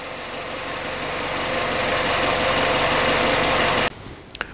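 A car engine idling steadily for several seconds with a constant low rumble and slight knock, then it drops off abruptly and a few faint clicks follow.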